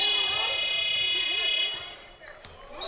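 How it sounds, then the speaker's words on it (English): Buzzer sounding during a men's college basketball semifinal, a sustained electronic horn-like tone lasting well over a second before cutting off, followed by arena noise and faint commentary. "Why did the buzzer sound?"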